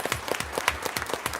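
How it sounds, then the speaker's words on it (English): Short burst of rhythmic clapping from an audience at a school board meeting, moderately close and steady for about a second and a half. "That just deserves a round of applause"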